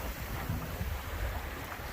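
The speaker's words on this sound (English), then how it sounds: "The waves are rolling every now and then," Waves rolling against a sailboat running downwind on Lake Huron with the headsail out, a low rushing wash of water mixed with gusty wind noise on the microphone, steady and close, with no talking.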